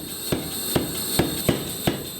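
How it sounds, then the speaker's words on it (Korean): A hammer strikes hot steel being forged into a flat kitchen knife blade, with six loud, sharp metallic blows at a steady, even rhythm in a workshop. "꼬여서 동그랗게 변한 쇠가 여러 번의 망치질을 거쳐 다시 납작한 형태로 바뀝니다."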